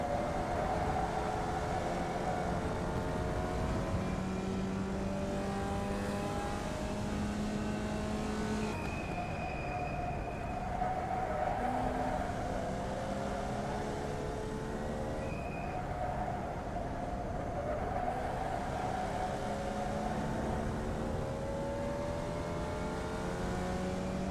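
A Formula Vee race car in iRacing lapping the Okayama Short circuit, its small engine droning steadily throughout with rising and falling revs through gear changes and corners, loud and close, no talking.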